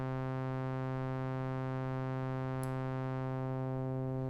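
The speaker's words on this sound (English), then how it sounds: "So there's my low note with no key follow." An Arturia Jupiter 8V software synth sustains a single low note with filter key follow off, a steady, loud, buzzy tone rich in even harmonics that holds unchanged throughout.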